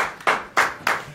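A lone man claps for himself in a radio studio, three or four sharp, evenly spaced hand claps, close and fairly loud with nobody speaking.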